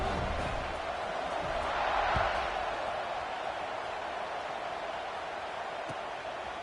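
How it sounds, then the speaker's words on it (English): College football video game stadium crowd buzzing after a score, a steady, fairly faint wash of distant crowd noise that swells slightly early on, with no voices standing out. "this crowd is buzzing after that last score"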